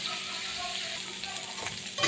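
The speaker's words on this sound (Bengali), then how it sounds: "দেখুন কাঁকড়ার পাগুলো ভাজা হয়ে গেছে" Crab legs frying in oil, a soft continuous sizzle with faint stirring and a light utensil clink at the end, quiet and close.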